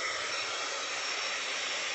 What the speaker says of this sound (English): I am going to take my dryer out. We're going to dry this a little bit.